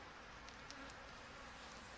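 Honey bees humming densely at an open backyard hive being inspected, a steady close swarm buzz with individual bees zipping past, no talking.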